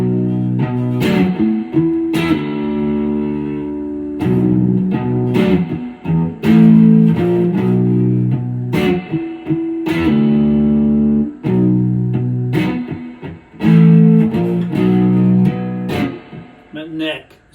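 A DIY Tele-style electric guitar plays through distortion on its bridge pickup. Sustained chords and single notes ring out loudly, broken by sharp picked attacks and brief pauses.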